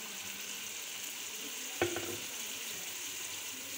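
Chicken fries in a karahi while a yogurt mixture is poured in. A steady, loud sizzle runs throughout, broken once near the middle by a single clank.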